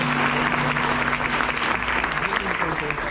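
A church congregation at a revival service applauding, a continuous dense clapping that holds steady throughout, with a low sustained musical tone and some voices underneath.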